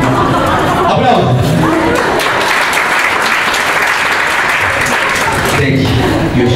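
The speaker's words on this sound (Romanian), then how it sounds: "Aplauze!" Sustained audience applause fills a panel and Q&A event hall in Bucharest, dense and loud from start to finish with a faint murmur of crowd voices mixed in.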